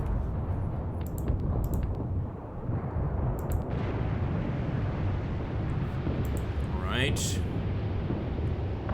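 Artillery explosions from the WW2 video game Graviteam Tactics: a continuous dense rumble of distant blasts and booms with a sharper burst near the end, heard beneath someone speaking.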